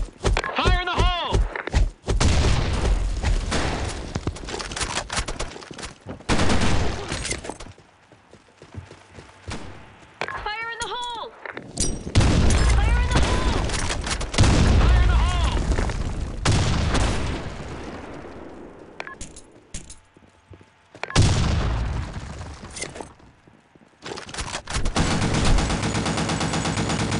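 Gunfire and a grenade explosion in the video game Blackshot: repeated bursts of loud shots and heavy booms spread across the span, mixed with in-game radio voice lines and other game sounds.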